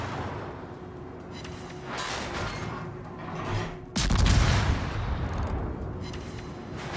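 Heavy warship guns fire in World of Warships as a Russian A. Nevsky cruiser blasts away with 180 mm guns: low rumbling booms rolling through continuous battle noise, with a loud, close salvo about halfway through and sustained heavy roar after.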